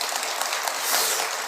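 Audience applause at a Buddhist dharma talk, a steady dense patter of many hands clapping close by that fills the whole moment with no voices over it.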